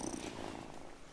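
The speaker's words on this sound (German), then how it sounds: "Oh, what a good purr." Cat purring in the video game Wylde Flowers, a soft steady rumbling purr heard close and quiet on its own.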